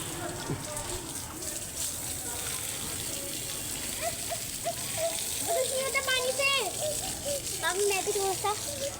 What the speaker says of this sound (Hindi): थोड़ा पौधों को पानी डाल दें।